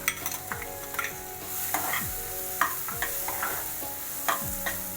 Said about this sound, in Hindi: बटर में डालेंगे कटा हुआ प्याज